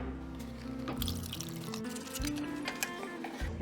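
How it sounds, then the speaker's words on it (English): Tamarind pulp liquid drips and trickles through a kitchen sieve in a steady, close patter beneath background music with sustained tones. "Now let me sieve this."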